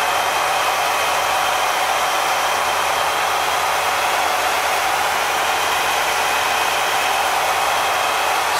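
An engine fitted with an Edelbrock carburetor idles while warming up, giving a steady, broadband hissing drone with a faint low rumble that stays constant throughout, no voices present.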